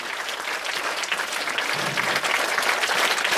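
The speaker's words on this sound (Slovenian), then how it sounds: "Dajmo en aplavz za naše tri mlade lepotice." Audience applause at a music video premiere in a Celje cinema, a dense steady wash of clapping that swells slightly halfway through and continues without a break.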